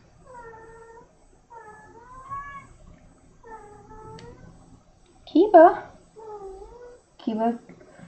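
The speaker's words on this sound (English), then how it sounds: "He usually starts meowing at me much earlier than this." A cat meows repeatedly up close, a series of drawn-out rising and falling cries, a couple of them louder and more insistent.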